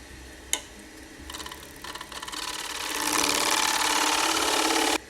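Wood lathe spinning a glued bowl blank mounted on a faceplate glue block: a sharp tap, then a steady mechanical hum with a rhythmic ticking texture that swells louder midway and stops abruptly near the end.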